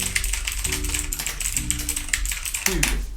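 Fast, steady typing on a mechanical keyboard with Cherry MX Blue switches, a dense run of close, crisp clicky keystrokes with no gaps.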